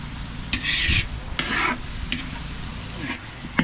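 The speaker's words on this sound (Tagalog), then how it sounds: "Isang gisa na po. Yan, naglalangis-langis." Chicken tinola ingredients sautéing in oil in a home kitchen, a steady sizzle broken by several scraping stirs of the pan, close and moderately loud with no talking.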